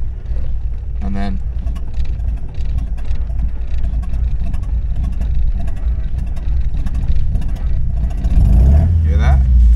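A Toyota AE86 Corolla engine idling low and uneven at about 500 rpm, a steady rumble with shaky pulses, close by; a brief rev near the end.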